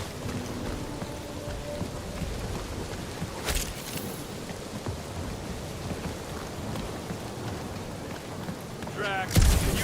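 Steady heavy rain hisses across the scene in Marvel's Guardians of the Galaxy video game, with sharp cracks of thunder breaking through twice, the second one near the end louder and rumbling.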